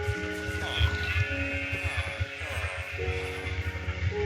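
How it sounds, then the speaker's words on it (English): Video game sheep bleat in a village, with several short, close calls spread across steady pulsing game music and ambient tones. "Sheep are very acrobatic."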